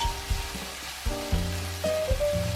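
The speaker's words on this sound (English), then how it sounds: "add the vinegar along the edge of the pan" Vinegar poured along the edge of a hot wok of spicy and sour potato shreds, a soft crackling sizzle with scattered taps and clinks of a utensil, close and moderate in level, with no voices.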